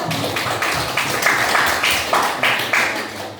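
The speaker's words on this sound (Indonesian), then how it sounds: "Oke, kasih tepuk tangan dulu." Audience applause at a dance event, a steady patter of many hands clapping at moderate volume, fairly close, with no talking over it.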